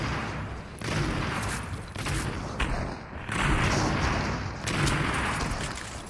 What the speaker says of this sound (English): I got a heavy shotgun.